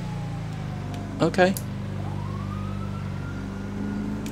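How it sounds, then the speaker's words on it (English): Police sirens wail in the GTA V video game, a steady tone in the background behind a brief voice saying a word. "I keep hearing sirens."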